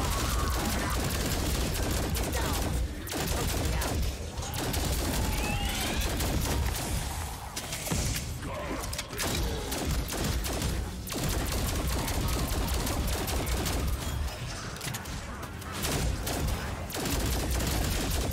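Wonder Weapon fire in Call of Duty Cold War Zombies, Mauer der Toten map: dense, loud bursts of blasts and crackling discharges come in rapid volleys with brief gaps, over game noise and without talk.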